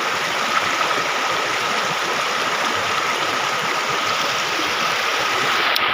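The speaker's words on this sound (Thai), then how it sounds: "ชมบรรยากาศน้ำตก" A waterfall roars with a constant, dense rush of falling water, steady and loud throughout, with no voices.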